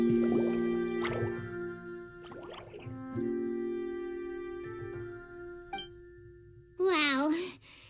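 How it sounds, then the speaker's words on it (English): Water drips in the Genshin Impact video game: bright ringing droplet tones and watery squishes over a sustained musical drone, ending in a loud warbling chime flourish. "it sounds like a water droplet is on the second floor"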